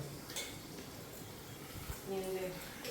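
Pots and dishes being washed and stacked at a home kitchen sink, with soft clinks and clatters of metal and crockery, fairly quiet, under a low voice.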